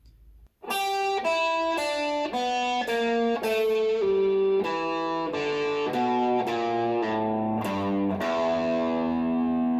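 A slow electric guitar pentatonic blues lick of single picked notes with a gritty, distorted tone, each note ringing briefly before the next, played alone.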